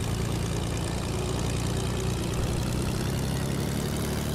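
A propeller plane engine in the video game Fortnite drones steadily at a constant loud level, a low idling hum with a buzzing tone, alone without speech.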